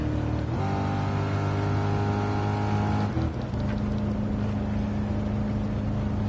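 A car engine in Gran Turismo, played with a G29 wheel in VR, drones steadily at high speed in 8th gear with a constant loud hum and a brief pitch shift partway through.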